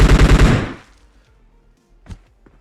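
Rapid automatic gunfire in PUBG Mobile, a loud close burst of about half a second that cuts off sharply, followed by quiet and a single fainter shot or impact later on.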